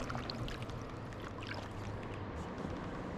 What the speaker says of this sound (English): The only thing I hear is the waterfalls and me talking.